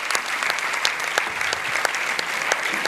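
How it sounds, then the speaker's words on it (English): Hall audience claps for twelve participants at a chartered accountants' knowledge session: sustained, moderately loud applause with sharp individual claps standing out from the crowd texture. "Big round of applause for all the 12 participants"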